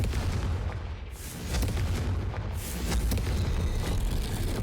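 Confringo blasting spell going off in the video game Hogwarts Legacy: booming, rumbling explosive bursts fill the clip with heavy low-end energy, two surges near the start and middle, loud and sustained without speech.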